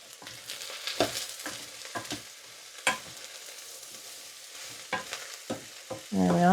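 Diced mushrooms and onions frying in a pan for a mushroom and pea risotto, a soft background sizzle broken by irregular sharp clicks and scrapes of stirring, ending in a brief louder swell, no voices.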